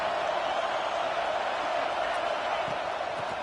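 Football stadium crowd cheering as the offense lines up at the goal line, a dense, continuous roar of many voices heard from a distance, steady throughout.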